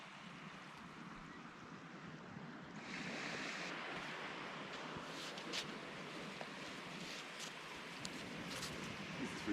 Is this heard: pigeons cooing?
no